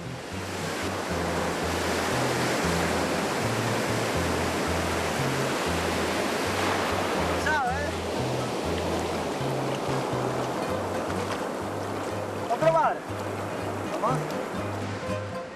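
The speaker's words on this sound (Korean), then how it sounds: "검은 모래 해변에서 파도를 즐기는 사람들." Ocean waves break on a black sand beach in El Salvador, a dense continuous roar of surf that stays loud and fairly close, fading slightly midway, with a low rhythmic pulse beneath it.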